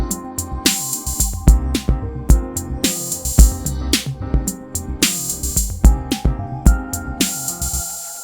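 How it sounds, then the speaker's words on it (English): A GD990 synth sidechained to a Roland TR-8 drum machine: a steady electronic beat with punchy kicks, hi-hats and snares while the synth tones pump and duck rhythmically against the kick, loud and continuous. "My GD990 is connected to my TR8 in the sidechain mode."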